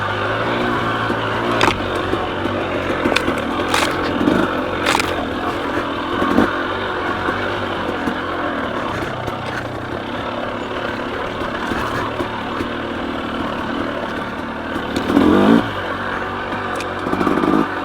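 A KTM 300 XC dirt bike engine on a single-track trail, a steady nearby two-stroke drone with gentle throttle blips and small surges, running continuously without talk.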